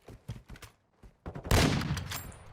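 Rapid gunfire from Call of Duty played at a collegiate LAN tournament, with scattered individual shots that give way to a dense, sustained burst of automatic fire that trails off.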